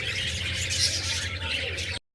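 Parakeets in a breeding aviary chirping and twittering together, a close, busy chorus of bright tweets that stops abruptly after two seconds.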